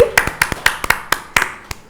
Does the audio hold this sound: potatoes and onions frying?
no